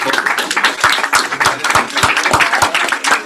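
A crowd applauds with dense, steady clapping that carries on throughout, loud and close, with no voices over it.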